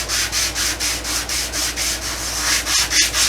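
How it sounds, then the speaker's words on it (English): Wooden pen blank pieces rubbed back and forth on sandpaper over a flat table, giving a steady rhythmic scratching of about ten even strokes, close and fairly loud, with two small knocks near the end. "I'm going to run them a little bit of sandpaper"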